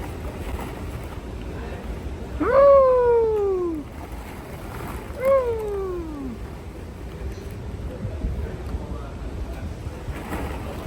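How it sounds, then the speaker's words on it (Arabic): Two long, drawn-out meows with falling pitch come from a nearby cat, the first louder than the second, against faint background noise with no clear talking. "يلا مياو مياو مياو مياو مياو."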